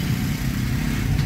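A motorcycle engine rumbles loud and close in busy road traffic beside an overbridge near Patliputra station, a steady low drone with constant background roar.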